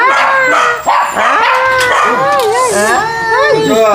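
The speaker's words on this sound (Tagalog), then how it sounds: "Ang dami palang aso." Several pet dogs at a family home bark, yip and howl in an excited greeting, near and loud in overlapping bursts, with people talking over them.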